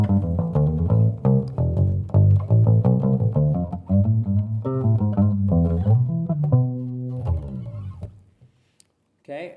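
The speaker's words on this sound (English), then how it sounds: "So here's the sound of the bass guitar without the overdrive circuit." Clean bass guitar with its overdrive circuit switched off plays a steady run of low, round notes for about eight seconds, then rings out into near silence.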